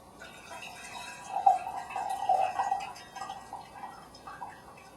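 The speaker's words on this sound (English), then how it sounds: "angle my lid over to the side a little bit so that I can pour this" Steeped gyokuro green tea pours from a lidded vessel with the lid angled aside, a soft trickling stream building and fading over several seconds, fairly quiet and close with no talk.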